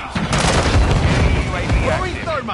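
Gunfire in a shooter video game, a burst of heavy, booming shots and blasts crowding together over about two seconds, loud and close, with the rumble fading at the end.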